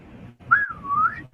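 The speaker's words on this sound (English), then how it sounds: "You know how to whistle" A person whistles during a live online web conference, one fairly loud sustained note that slides down and then rises again, heard over a low, pulsing background hum.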